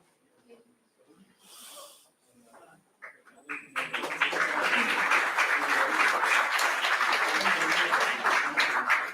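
Audience applause during a memento presentation at an institutional event on India's economy, with a few scattered sounds first and then sustained, fairly loud clapping for the rest.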